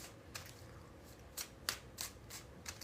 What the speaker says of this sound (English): and then we'll get 3 more shuffles